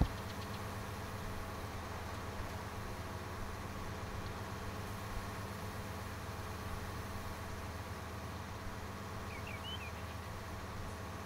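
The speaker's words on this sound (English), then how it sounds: "See that tractor just spinning there for a minute?" A farm tractor drones steadily at close range with its wheels spinning in a field while planting seed, a constant low engine rumble with no talk.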